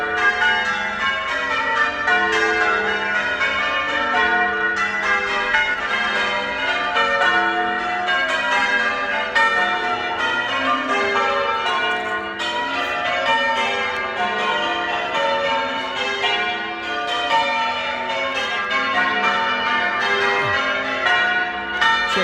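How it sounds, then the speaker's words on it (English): Church bells ring out in London in a continuous, busy peal of overlapping metallic strikes, steady and moderately loud throughout. "He's in there ringing the bell."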